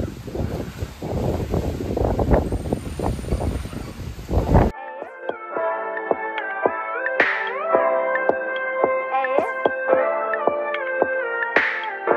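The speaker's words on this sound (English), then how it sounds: "it is so windy" Strong wind gusts in South Africa buffet the microphone in rough bursts, then cut off, followed by a calmer stretch with a recurring tonal rattling sound.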